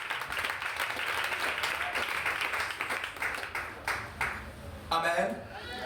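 A church congregation claps and cheers in praise of Jesus, dense applause mixed with voices throughout, ending in a louder burst of shouting.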